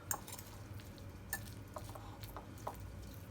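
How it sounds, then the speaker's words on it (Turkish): A spoon gently stirring a cheese filling for crispy bread in a bowl, soft scraping with a few light clinks against the dish, quiet and close. "bunları bastırmadan hafif hafif karıştıracağız"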